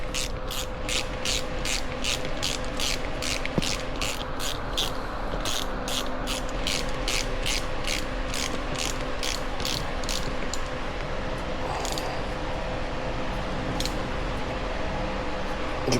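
A ratchet wrench snugs bolts on a Honda CRF100 dirt bike engine being resealed and rebuilt. It clicks in a fast, steady rhythm of pawl ticks in repeated bursts, close up and continuous, with no talk.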